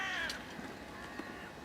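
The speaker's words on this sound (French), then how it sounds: "le chant magnifique des corbeaux" Crows cawing over a lightly snow-covered countryside, a few faint, distant calls against a steady background hiss.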